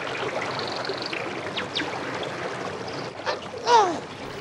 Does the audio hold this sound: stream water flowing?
yes